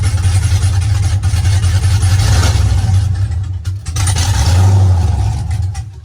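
LS-swapped car engine pulling away on its first drive, a loud close low rumble that swells under light throttle, eases briefly, then rises again.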